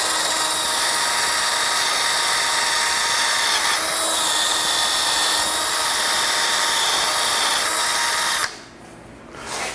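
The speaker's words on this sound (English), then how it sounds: "So I'll kind of go over this with a wire wheel first, just to kind of get what I can off of here." A power wire wheel scrubs a Case tractor engine part during teardown, a loud steady high-pitched whir with grinding that runs continuously for about eight seconds, then cuts out abruptly, leaving a quieter tail.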